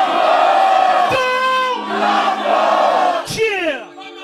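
A crowd at a French rap battle event roars, cheers and whoops for a rapper, loud and close, swelling in waves with shouted calls rising out of the noise for about four seconds.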